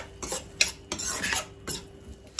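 Spices including Kashmiri chili powder and garam masala are stirred into Maggi masala in a pan, with a spoon scraping and clinking against the metal in several quick, close strokes and no voices.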